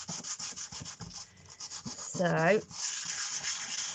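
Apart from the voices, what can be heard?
rubbing Christmas lantern with sandpaper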